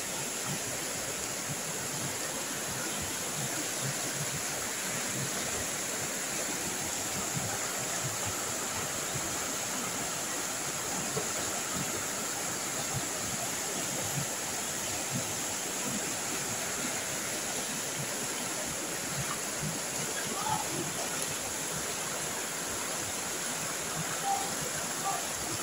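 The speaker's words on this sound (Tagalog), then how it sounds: "Grabing ilog ito no?" A river flowing, heard as a steady, unbroken rushing wash of water that holds an even level throughout.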